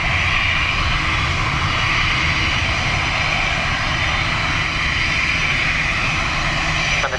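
Steady, loud roar of aircraft engines at Dublin Airport fills the whole stretch without a break, a broad continuous drone with a high whine layered on top, heard on a windy, wet day.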